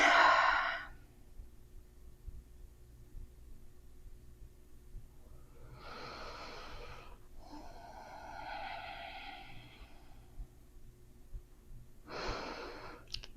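Slow, deep yoga breaths, close and clear: a long exhale at the start, then a drawn-out breath cycle midway and another audible breath near the end, with quiet gaps between.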